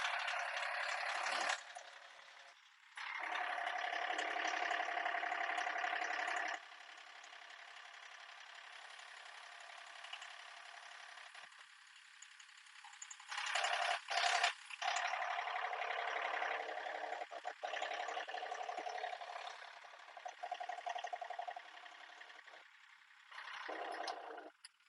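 Tractor engine running steadily through the whole stretch, a mid-pitched idling rumble with knocking and rattling, rising and easing in level with a few brief dips, close by and no talk over it.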